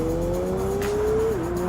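A 700 hp McLaren supercar at full throttle, a loud, rising engine whine that climbs steadily, then dips sharply at a gear change before pulling on, close and without voices.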